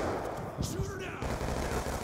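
Rapid bursts of gunfire rattle out in a Black Ops video game as players fire at a hostile UAV overhead, the shots crackling over game noise and a shouted voice.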